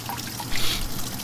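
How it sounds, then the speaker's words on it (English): Soft running water trickles and splashes near a fresh tattoo as it is gently washed with soap, a brief close hiss with no voices. "Now we just gotta wash the tattoo gently with some gentle soap."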